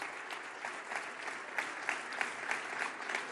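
A crowd applauds at Emmanuel Macron's political rally after he qualified for the second round of the presidential election, giving sustained, fairly distant clapping with a few sharper claps standing out.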